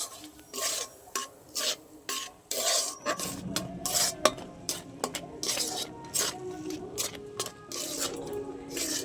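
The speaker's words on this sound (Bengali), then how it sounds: "এবার কড়াইয়ের মধ্যে আমি তালের পাল্পটা আগে দিয়ে দেবো।" Raw palm fruit pulp cooking in a wok and being stirred, heard as a close series of rasping, scraping strokes against the pan, irregular at first and then steadier, with no talk.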